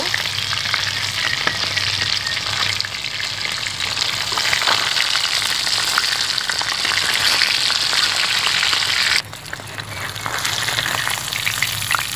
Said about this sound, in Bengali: মাছটা একটু উল্টে পাল্টে দিব